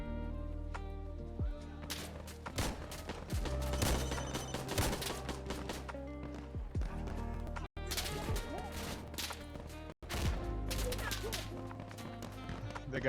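Gunfire in the video game Insurgency Sandstorm: dense bursts of loud rifle shots and cracking impacts, some rapid automatic strings, with a voice talking faintly underneath.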